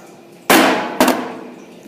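A solid rock dropped twice onto a hard surface in a classroom phases-of-matter demonstration, two sharp close impacts about half a second apart, each trailing off briefly.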